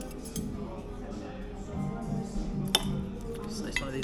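Cutlery clinks against a plate while Georgian dumplings are cut open, a few light sharp taps standing out over soft background murmur.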